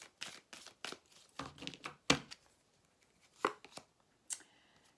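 Tarot cards handled for a card reading: scattered soft slaps, riffles and shuffles close by, in irregular bursts with quiet gaps between them.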